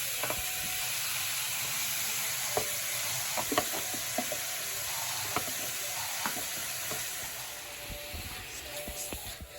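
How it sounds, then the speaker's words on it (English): Pork and onions stirred in avocado oil in a pan for Japanese ginger pork, a steady close sizzle broken by scattered scraping clicks of the utensil, with no talking. "So you put pork and onions all together. Mix. Put avocado oil in here."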